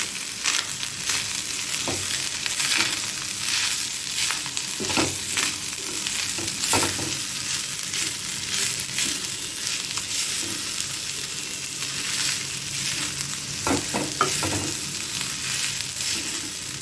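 Vegetable fried rice stir-fried in a pan with chilli powder and pepper, a constant close sizzle broken by repeated scraping and tossing strokes of a spatula at an uneven rhythm.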